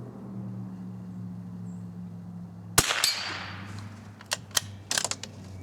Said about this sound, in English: we're going to be shooting at them with Wolf ammunition made in England